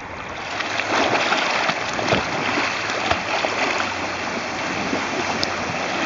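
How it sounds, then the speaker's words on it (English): Running river water heard while tubing down a river, a steady rushing wash with small splashes and gurgles, close and continuous for several seconds with no talk. "I hear running water."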